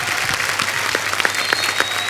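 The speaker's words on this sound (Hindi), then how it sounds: "तो जोरदार तालियां हो जाए" Studio audience applause fills a comedy show set, a dense, steady wash of clapping from a live crowd at close range with no voices over it.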